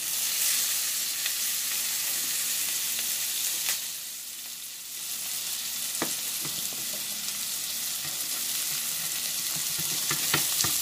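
Beyond Burger patties fry in a pan, seasoned with salt and onion powder. A loud, steady sizzle briefly dips, then carries on with scattered sharp crackles and pops, with no voices.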